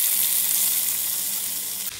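Chopped vegetables for a sandwich filling hit hot oil with a loud, dense, continuous sizzle that holds steady for two seconds before a brief dip at the end, with no voices.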